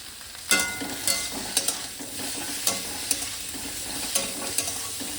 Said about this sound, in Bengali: আর একটু হলুদ দিয়ে মেখে আমি এর সঙ্গে চিংড়িটা ভেজে নেবো।